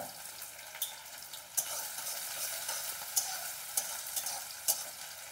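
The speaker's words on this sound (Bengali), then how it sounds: "যতক্ষণ পেঁয়াজটা ভাজা হচ্ছে" Chopped onion fries quietly in a pan for a garlic liver roast, a low, even sizzle punctuated by several sharp, separate clicks and knocks spaced through the clip.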